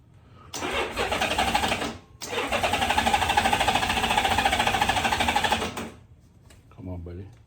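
A 1994 Honda Goldwing 1500 Aspencade motorcycle engine cranks with a rapid rattling starter, pauses briefly, then cranks again for several seconds before stopping; a voice speaks at the end.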